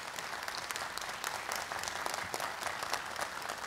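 Sustained, dense applause from the audience at the 2014 Jeonju MBC Lions service award ceremony, a steady wash of many hands clapping throughout with no voices on top.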